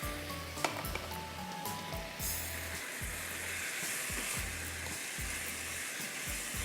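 Chicken and chopped onion frying in a pan, a steady, fairly quiet sizzle with a rhythmic low thumping underneath and a few sharp crackles, with no talk.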